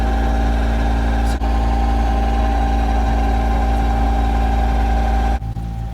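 A boat motor runs loud and steady at sea, a constant engine drone with a rich low hum throughout, briefly dipping near the start and again near the end.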